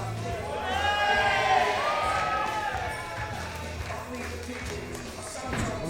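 Live wrestling crowd cheering a wrestler's entrance at a Lancashire Riot event, a broad wash of cheers and shouts that swells, then eases off, with a commentator talking over it.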